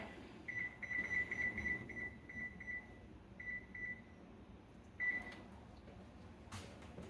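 A kitchen oven timer is keyed in, giving a run of short high electronic beeps in quick succession, then a pause and another short burst, over faint room hum.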